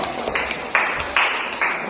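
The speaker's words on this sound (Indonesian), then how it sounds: "Kita kasih tepuk tangan ya untuk kelompok 1." Classmates in a school lesson clap for a returning student group, a dense patter of hand claps that swells in waves, moderately close and fairly loud, with no talking over it.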